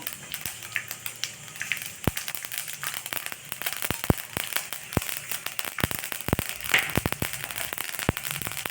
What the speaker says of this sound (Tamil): எண்ணெய் கடுகு வெடிக்கட்டும்